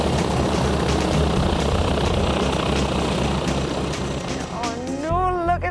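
A Boeing Stearman biplane's engine drones loudly and steadily on the runway as it begins its takeoff roll, with a voice breaking in briefly near the end.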